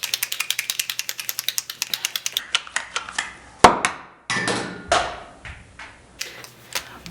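Chalkola chalk markers are pumped up and down to prime them, giving a rapid series of sharp, close plastic clicks followed by slower, irregular taps and knocks.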